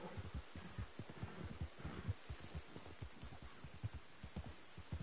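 Rain falls across a desert landscape in a video game as faint, irregular low thuds and soft patter, quiet throughout with no talking.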